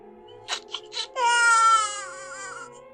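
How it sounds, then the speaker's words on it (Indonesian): A baby cries in a sustained, wavering wail after a few short fussy whimpers, close and loud. "Terdengar tangisan bayi."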